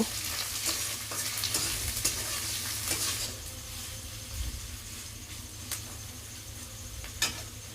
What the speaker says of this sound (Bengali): কড়ার মধ্যে দিয়ে দিলাম পেঁয়াজ কুচো দিয়ে পেঁয়াজটাকে একটু আমি লাল লাল করে ভেজে নেব